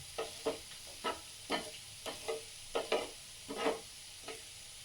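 Masala dosa cooking in ghee on a pan, a low sizzle broken by a regular series of soft scraping strokes as the ghee is spread around, close and fairly quiet.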